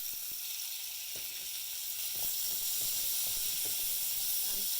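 Potatoes and leeks fry in a pot for soup with a steady, fairly quiet hiss, a few soft clinks and scrapes as they are turned, no voices.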